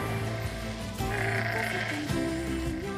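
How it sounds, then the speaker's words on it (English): Sheep bleat in the Nier Replicant game, several bleats over continuous game music, fairly loud and close, with no talk. "Hi sheep. Hi sheep."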